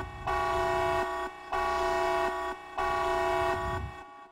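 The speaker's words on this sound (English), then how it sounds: "That is the sound of we being raided." Twitch stream raid alert, three loud tonal horn-like blasts of about one second each, evenly spaced and heard alone.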